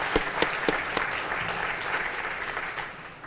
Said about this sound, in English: Let's give another applause for Jesse Doyle and King's Legacy.